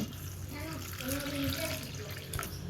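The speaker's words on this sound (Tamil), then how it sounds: "இப்போ தண்ணி ஊற்றி வச்சுருவோம் கொஞ்சம் ஊரட்டு" Water poured over soaking goat intestine meat in a kitchen, a steady running splash like a tap filling a vessel, with faint voices in the background.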